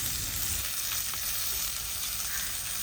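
Stuffed bangda mackerel wrapped in banana leaf sizzles steadily in a pan on a low stove flame, a close, even frying hiss throughout with no talk.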